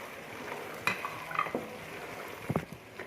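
Cumin, black pepper and garam masala roast in a pan with a soft, quiet sizzle, broken by a few scattered scrapes and clinks of a spoon stirring against the metal.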